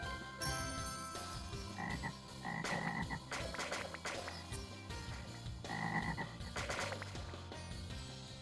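Frogs croak steadily in Scribblenauts Unlimited, a dense chorus of overlapping ribbits layered over background game music, loud and continuous throughout with no voices.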